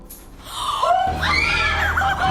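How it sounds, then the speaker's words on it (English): Several girls scream in fright in a horror scene, high shrill cries rising and overlapping over about two seconds, loud and close, with a gasping start. "The girls scream and run to another room."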